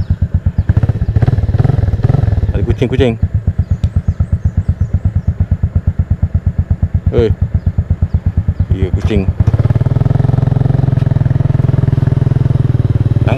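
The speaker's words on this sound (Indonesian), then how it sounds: "Exhaust dia bocor je lah. Tapi sarang tak jatuh, so dia just bocor je. Bunyi dia sangat-sangat smooth." An older first-model Kriss 110 motorcycle idling with a leaking exhaust, putting out a fast, even chain of close, loud exhaust pulses before the revs rise into a smoother, steadier drone. Someone speaks briefly over the engine.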